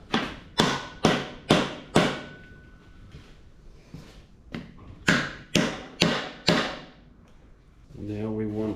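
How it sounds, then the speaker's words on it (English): A crankshaft in a Ford 302 V8 being rebuilt is knocked back and forth with a mallet to set thrust, about a dozen sharp, loud metallic blows in two quick bursts, followed by a short low hum. "we're going to knock the crank back and then all the way forward, and that should align our cap"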